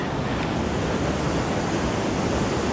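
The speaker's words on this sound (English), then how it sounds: "now we're on to Padma Beach" Ocean surf at Padma Beach in Bali makes a steady, broad wash of crashing waves with no distinct breaks, heard alone without talk.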